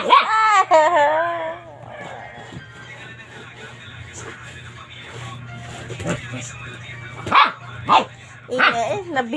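A dog barks in short loud bursts near the start and again at about 6 and 8 seconds, among people talking and laughing, with a steady low hum running underneath.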